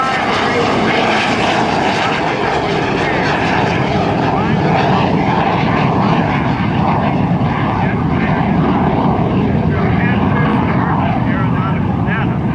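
F-86 Sabre jet roaring at an airshow demonstration, a loud continuous broadband engine rumble that swells and shifts as it passes, with an announcer talking over it throughout.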